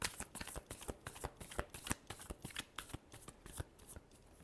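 Tarot cards being shuffled by hand, a quick run of crisp riffling snaps and soft slaps repeating close up for several seconds with no talking.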